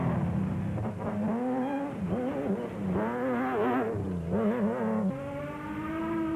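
A Nissan 4-cylinder Class SP hardbody race truck engine at a rally-style race, revving up and down through gear changes with a rising and falling whine, steady and moderately close, no talk.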